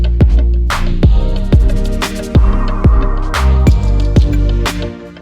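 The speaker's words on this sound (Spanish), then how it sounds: "Es el instrumental." Instrumental backing track from the FL Studio 20.9 demo project, loud and steady with punchy kick drum hits on a regular beat, bright percussive accents and layered synth tones, no voice over it.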